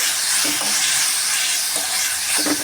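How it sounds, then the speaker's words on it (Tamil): Onions sizzle and fry steadily in a pan, with occasional soft scraping of a spatula stirring them. "இப்போ வெங்காயம் கொஞ்சம் நேரம் வதங்கட்டும்."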